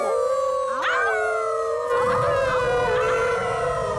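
Cartoon puppies howl together through a megaphone at a rock concert on a rock, a loud sustained multi-voice howl with rising and wavering tones, swelling partway through and carrying on over a constant bed of noise.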